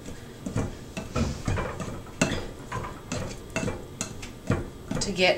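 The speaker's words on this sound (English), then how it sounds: "And we're going to whisk this together" Rapid whisking of flour in a bowl for maple scone dough, with quick clinking and scraping strokes in an uneven rhythm, close up, while a person speaks over it.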